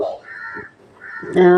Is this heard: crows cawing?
yes